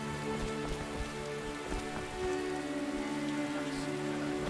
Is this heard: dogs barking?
no